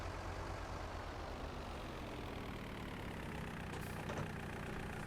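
In Farming Simulator 19, a tractor engine idles as the tractor reverses, giving a steady low rumble with a brief brighter rattle near the end. No one speaks.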